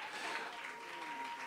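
A church congregation claps and cheers together, a dense, steady wash of applause filling the space from start to finish without pause.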